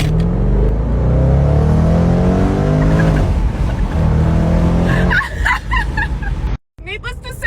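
A car engine runs loudly and steadily at idle, revving on its own without the gas pressed, with a deep rumbling drone that fades before a brief cutoff and some closing voices and chatter.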